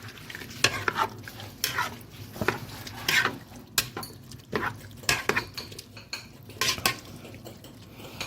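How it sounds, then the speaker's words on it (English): Campfire chili with canned tomatoes is stirred in a pot outdoors, a spoon scraping and knocking against the metal in an uneven rhythm over a soft sizzle, close and without talk. "Once you've added all your cold canned stuff, give it a good mix."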